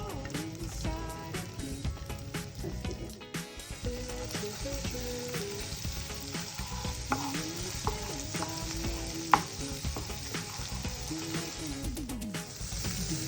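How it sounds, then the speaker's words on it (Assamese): Ginger garlic paste sizzles and fries in hot oil for a veg manchurian gravy, a steady, dense crackling hiss that runs unbroken and close, with no voices over it. "তেল দিলোঁ আদা নহৰুৰ পেষ্ট 1 চামুচ।"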